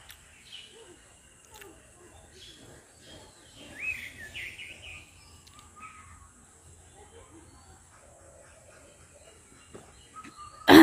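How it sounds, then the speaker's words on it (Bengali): Mixed birds, including myna, dove and cuckoo, call faintly around a house rooftop, with scattered short chirps and a clearer burst midway over a low murmur of distant voices. "শালিক ডাকে ঘুঘু ডাকতে আছে তারপরে এই যে কোকিলও ডাকছে"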